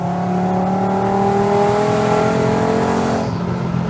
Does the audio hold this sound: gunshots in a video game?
no